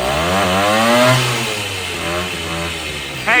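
A 1969 Morini 50cc two-stroke mini bike engine runs loud and close, with a buzzing, raspy note that rises and falls as the throttle is revved.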